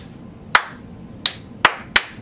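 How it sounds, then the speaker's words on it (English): Children clap back a rhythm of four crisp hand claps, one alone and then three in quicker succession, close up in a quiet room. "Now you clap it."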